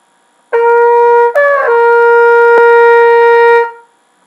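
A single sustained trumpet tone played with an E vowel shape, tongue high in the mouth, sounds alone, bright and steady, with a brief wobble in pitch near the start before it settles and fades.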